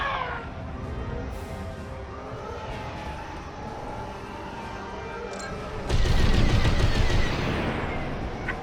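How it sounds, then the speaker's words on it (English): Starfighter laser cannons fire in space combat in Star Wars Squadrons, loud, dense rapid bursts over a rumbling engine bed, swelling into a heavier blast-like roar near the end. "Shoot them all down."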